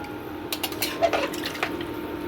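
Water being poured into a pressure cooker holding chicken curry, a few short splashing bursts and clinks of metal over a quiet kitchen background, close and brief.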